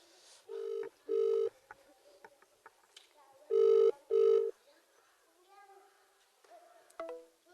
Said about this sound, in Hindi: फिर फोन काट दिया है, फिर लगा रहा हूँ।